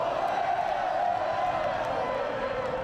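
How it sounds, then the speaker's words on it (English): A large crowd of Montreal Canadiens fans gathered outside the Bell Centre to watch a playoff game makes a steady, dense roar of many voices with scattered cheers, heard at a distance from within the crowd. "this crowd here, who are gathered to watch the game as well"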